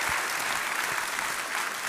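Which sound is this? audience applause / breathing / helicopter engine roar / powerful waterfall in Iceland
audience applause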